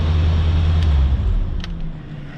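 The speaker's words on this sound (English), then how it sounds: "Gets a burnout because John's not here" A 1990 Chevy C4 Corvette doing a burnout, a loud, steady low engine roar with tire noise that eases slightly toward the end, no talking.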